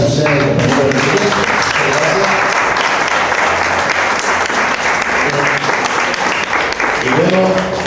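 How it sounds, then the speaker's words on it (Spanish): Loud, sustained applause from a forum audience fills the whole stretch, a steady wash of clapping with a voice briefly over it near the start and end. "Un aplauso"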